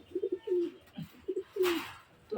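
Restless pigeons cooing nearby, with short repeated coos followed by longer drawn-out calls in two clear phrases, plus a brief rustle near the end.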